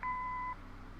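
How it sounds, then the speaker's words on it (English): Answering-machine beep in the Kathy Rain video game: a single clean electronic tone lasting about half a second, moderately loud, followed by quiet room tone. "Leave a message after the beep."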